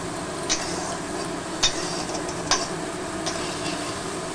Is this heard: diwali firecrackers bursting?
no